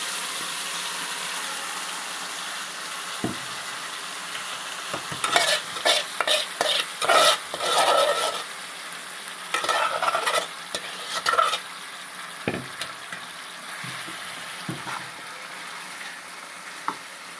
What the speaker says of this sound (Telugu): ఇప్పుడు చికెన్ అంతా వేసేయాలి. దాంట్లో వేస్తే ఇలా సౌండ్ రావాలి